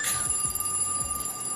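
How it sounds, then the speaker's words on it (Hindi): A telephone rings with a steady electronic tone and bright repeating chime, loud and close, with no talk over it. "ये दूध वाली का फोन आ रहा है"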